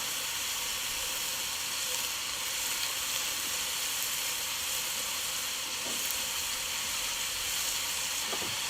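Tomato paste hitting a hot pot for osso bucco on a braai, a steady broad sizzle and hiss throughout, close and even in level, with no talking.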